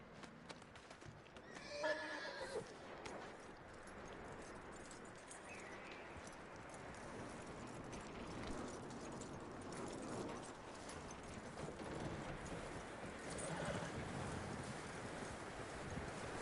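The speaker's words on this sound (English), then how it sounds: "That looks like a decent horse." A horse in Red Dead Redemption 2 whinnies sharply near the start, then its hooves clip-clop steadily beneath a constant windy outdoor wash.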